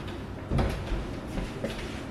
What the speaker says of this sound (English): Let me close that door, that feels weird.